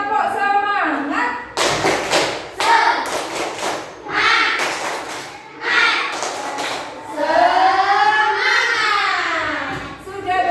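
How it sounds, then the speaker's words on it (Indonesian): Rhythmic spirit clapping led in a primary-school lesson, with bursts of claps in a set pattern alternating with group chanting and a teacher's voice, fairly close and lively. "satu kali tepuk semangat"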